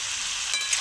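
Onions with turmeric fry in a pan, giving a short, steady close-up sizzle with faint crackles and no voices.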